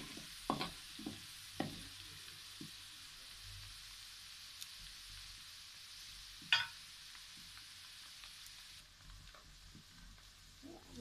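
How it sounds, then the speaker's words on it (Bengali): Garlic frying in a pan for a Bengali chicken curry, a soft steady sizzle with a few sharp clinks of a utensil against the pan, no talking. "রসুন ভাজা হয়ে গেছে"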